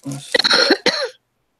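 A single sharp, close cough, with a short rough burst of throat noise before it and quiet afterward.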